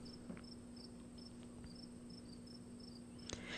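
Crickets chirp steadily in a faint, quiet night setting, a continuous pulsing trill with no talk.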